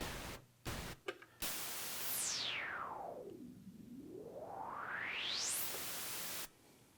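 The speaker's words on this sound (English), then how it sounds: "and then we have pink noise." Pink noise from a Behringer Model D synthesizer's noise generator: a few short choppy bursts, then a steady loud hiss that a filter sweeps downward into a muffled low rush and back up to bright, before it cuts off.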